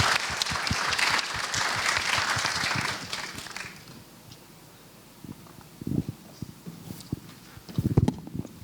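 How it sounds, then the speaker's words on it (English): Conference audience applauding panelists at an entrepreneurship summit; clapping is strong for about three seconds, then fades to a quiet room with a few scattered knocks and thumps. "Let's give a round of applause to the panelists and the floor."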